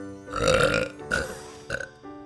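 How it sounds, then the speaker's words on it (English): A loud, drawn-out belch up close, followed by a couple of shorter burps and a brief vocal tail. "a loud belch came from across the table"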